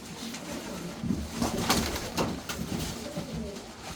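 Racing pigeons coo in low repeated murmurs, several birds overlapping at close range, with a brief rustle of movement in the middle.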